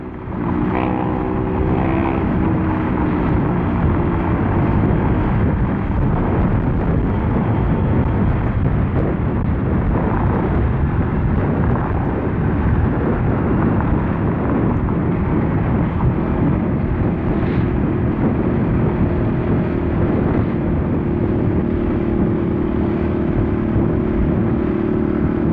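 Honda PCX 150 scooter engine running and revving, a loud, steady droning roar that holds throughout with little change, heard close up and alone.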